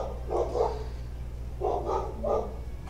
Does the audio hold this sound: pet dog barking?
yes